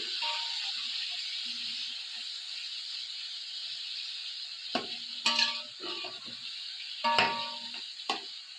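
One and a half kilos of chicken cooking in a pot with garlic-ginger paste for Bombay biryani, a steady steamy hiss with a few clanks of a spoon stirring against the pot near the end.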